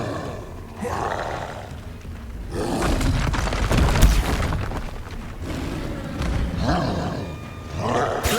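A fiery Incendio spell cast in Hogwarts Legacy, a loud roaring whoosh with booming bursts and a peak in the middle, followed by more swelling magical blasts.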